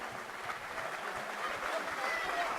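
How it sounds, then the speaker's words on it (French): Crowd applause at the end of a boxing bout at a gala, a steady dense wash of clapping and cheering held at even loudness throughout, with some voices mixed in. "Fin du combat, on peut les applaudir."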